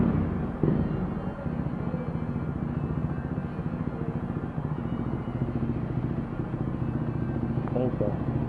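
A 400 cc motorcycle engine idles and putters steadily at night, a close, rhythmic low rumble running throughout while someone talks over it.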